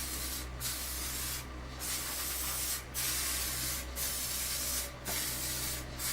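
Bursts of aerosol spray varnish misting onto a wooden piece for a desk setup, about five or six short hissing sprays spaced roughly a second apart over a steady low background hum.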